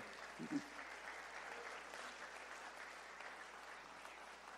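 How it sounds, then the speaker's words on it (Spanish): Church congregation applauding during a sermon, a faint, distant, even patter of clapping from a crowd, with a brief louder sound near the start. "denle aplauso al Todopoderoso"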